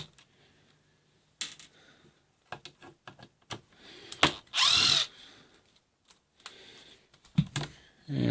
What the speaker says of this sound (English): We're just going to go ahead and unscrew those.